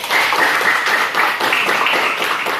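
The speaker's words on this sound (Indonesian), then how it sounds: "berikan aplaus" A classroom of students applauding together, a brisk burst of many hands clapping close by for a couple of seconds with no speech on top.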